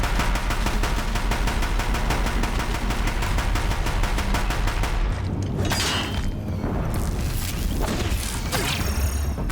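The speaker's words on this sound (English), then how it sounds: "If the Deathbringers keep firing, this bridge will go." Rapid machine-gun fire from Deathbringer machines pounding a bridge in the Horizon Zero Dawn game, a loud, dense stream of fast shots for about five seconds, then heavy impacts and crashing booms.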